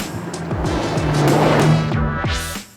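A Toyota Tacoma TRD Pro on Fox QS3 shocks pounds over a run of off-road whoops, engine roaring steadily with repeated rhythmic thumps from the suspension as it rises in intensity, then fades near the end.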